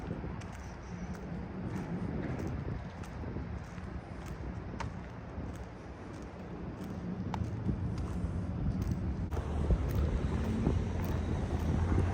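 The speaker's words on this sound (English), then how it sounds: "Seems like the wind is picking up a little bit." Wind gusting outdoors on a late-evening city street in New York's Financial District, a steady broadband rush that swells louder toward the end, with no one talking.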